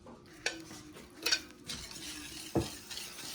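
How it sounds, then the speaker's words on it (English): Sugar is mixed into eggs in a bowl for chocolate lava cake. A faint, steady stirring scrape runs throughout, broken by a few light clinks of the utensil against the bowl, with no talking. "You want to mix that up nice, get it nice and smooth"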